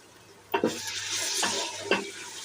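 Ginger garlic paste frying with onions in a pressure cooker: a sudden burst of hissing sizzle when the paste goes in, then steady frying crackle with two or three stirring scrapes, close and fairly loud.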